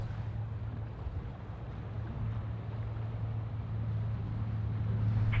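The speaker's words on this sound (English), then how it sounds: "we've got a Dash 8 Q400 and is spooling up, almost ready for departure" A Dash 8 Q400 turboprop rolls for departure on runway 16 left at Sydney Airport, heard as a steady, distant low roar with wind rumble that swells slightly toward the end.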